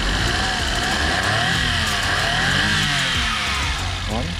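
A Suzuki Every Wagon DA64W with an all-aluminum inline three-cylinder turbo engine runs close up, a steady loud engine hum with slight rises in pitch throughout.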